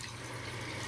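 Dirty aquarium water squeezed from a sponge filter is poured out in a brief, steady splashing stream, close and fairly soft.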